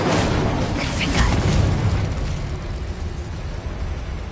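Explosive spells burst in Hogwarts Legacy, a continuous loud roar of blasts and fiery rumble with brief sharper pops layered through, sustained and close throughout.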